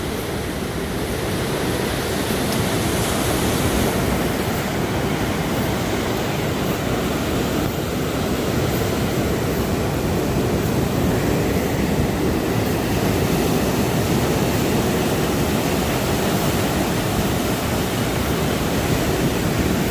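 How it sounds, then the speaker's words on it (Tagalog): Big ocean waves surge and crash along a beach in a continuous loud roar of broadband surf noise with no voices over it. "So malalaki ang alon."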